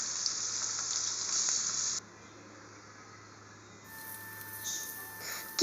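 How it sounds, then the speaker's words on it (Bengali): Pangas fish fries in a pan with a soft, steady hissing sizzle that drops quieter partway through, then swells a little before a light clatter at the end. "পাঙ্গাস মাছটাকে সুন্দরভাবে ভাজতে হবে, দুই পাশে যাতে একবারে লাল লাল হয়ে যায় এভাবে ভাজতে হবে।"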